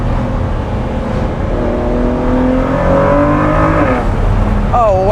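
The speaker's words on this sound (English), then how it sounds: "Wow, that sounds great." Ford GT Carbon Series engine revving hard through the gears, a loud, close rising drone with harmonic sweeps that climb, then dip sharply at an upshift before climbing again, with faint talk underneath.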